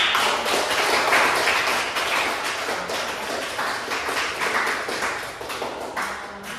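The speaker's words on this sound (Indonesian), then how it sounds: "tepuk tangan buat" Sustained applause fills a classroom as an audience claps continuously and fairly loudly, a dense steady patter of many hands with no pause.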